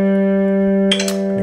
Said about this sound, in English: You hear that chiming in the background, that means I'm in tune.